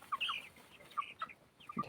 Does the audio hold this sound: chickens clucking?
yes